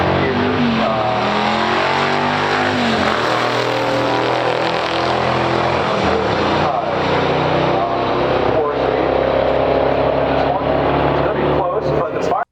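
A 1969 Corvette 427 L36 and a 1973 Firebird Formula 455 in a pure stock quarter-mile drag race, engines roaring loud and continuous throughout under steady commentator talk.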